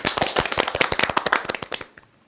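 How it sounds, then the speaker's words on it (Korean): Small audience clapping at a Korean youth talk event, a quick burst of sharp, close handclaps in a brisk rhythm that fades out after about two seconds. "자, 박수"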